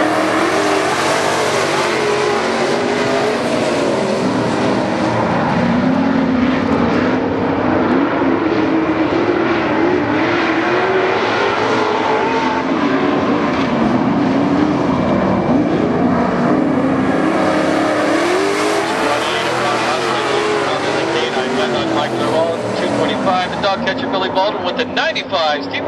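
Super stock race cars roar around the dirt oval at Barona Speedway, a continuous, loud engine drone rising and falling as the pack circles, with a race announcer talking throughout.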